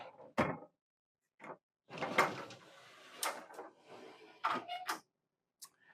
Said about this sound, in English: another full-size pocket door